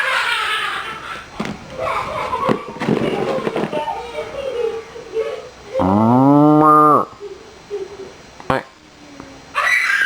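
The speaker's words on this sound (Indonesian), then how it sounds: "Suara kambing." A goat lets out one loud, drawn-out bleat partway through, set among scattered noisy thumps and rustles.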